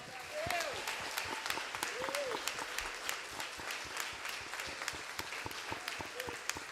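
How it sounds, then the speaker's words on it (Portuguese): A church congregation claps together in steady, dense applause that stays moderately loud throughout, with a voice rising briefly over the clapping at a few moments. "Você pode aplaudir ao Senhor?"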